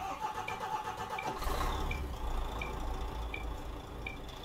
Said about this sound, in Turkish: Aracımızı bir çalıştıralım, havamız dolsun.